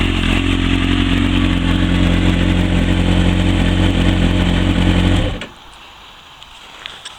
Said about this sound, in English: the exhaust, both visually and acoustically, I think lends itself to the bike absolutely perfectly as it is